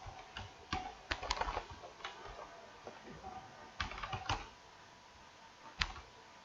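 Computer keyboard typing up close in a quiet room, irregular clusters of clicking keystrokes with short pauses between them and a final isolated tap, no talking.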